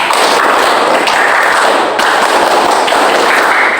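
A group of students in a classroom performs the Pramuka scout clap together, loud rhythmic bursts of hand clapping in a patterned sequence with short pauses between phrases, and no talking.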